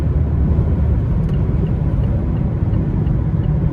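Wind noise inside a 2023 Mazda MX-5 Miata RF Grand Touring while driving, a loud, steady low rumble and roar with no talk over it.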